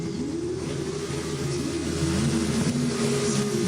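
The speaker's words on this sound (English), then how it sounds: "Rings up the revs. Let's listen in." A Formula 2 car's engine revs at the start of a practice session at the British Grand Prix, a steady loud drone with rising and falling pitch sweeps over continuous background noise.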